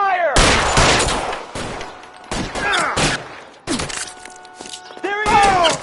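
Heavy gunfire in L.A. Noire: loud, close bursts of rapid shots in several volleys separated by brief pauses, with shouting voices between and over the shooting.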